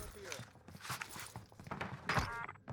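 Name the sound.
footsteps in the video game Call of Duty Warzone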